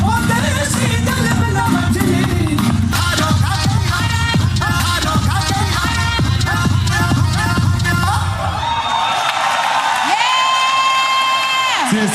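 A loud crowd at a Democratic Alliance rally in eThekwini cheers and whoops for the Rudra Dance Company's Bhangra act. The dense, continuous roar carries shouts, and bright sustained whistle-like tones rise near the end.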